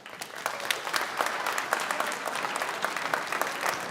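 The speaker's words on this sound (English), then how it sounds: "give a huge round of applause to your biggest supporters out here" An audience applauds at a county band concert, dense, steady clapping from many people that fills the hall throughout, fairly close and even in loudness.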